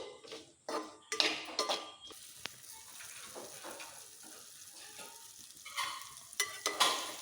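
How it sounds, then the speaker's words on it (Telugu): Okra (bendakaya) frying in a hot pan, a steady sizzle broken by scraping stirs and clinks of the spatula, louder bursts at the start and end, with no voices. "బెండకాయలన్నీ జిగురు పోయేలాగా వేపుకోవాలి."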